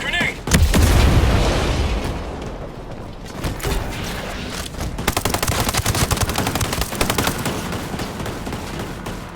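In Ghost Recon Breakpoint, a close grenade blast booms heavily, followed by a long stretch of rapid automatic gunfire and scattered shots. Voices shout amid the fighting.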